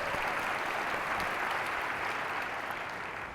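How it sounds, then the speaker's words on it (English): Sustained audience applause at the ADL Never Is Now award ceremony, a dense even wash of clapping from a large crowd that holds steady and begins to fade at the end. "Give Mark Mariella a big round of applause."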